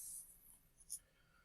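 Faint, brief scratches of writing on a board in a hydrology class, a couple of quiet strokes in a hushed room.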